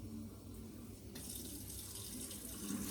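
Hot water for tortilla dough runs steadily in a kitchen, a quiet continuous pour that brightens and grows a little fuller partway through, with no talk.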